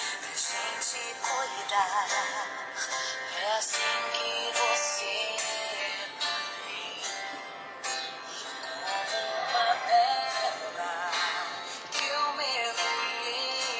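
Music plays from the rear speakers of a Genesis GT 7200 tablet, sounding thin and bright with little bass, at a steady moderate level throughout with no talking over it.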